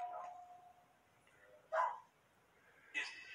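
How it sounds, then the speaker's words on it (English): A dog barks indoors at night, two or three short, sharp barks spaced apart at a moderate distance against a quiet background. "My dog is barking for some reason."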